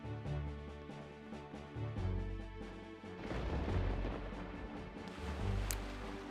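Cannon fire in the video game Zelda Wind Waker, several booming blasts over layered game music and sound effects, moderately loud and repeated across the moment.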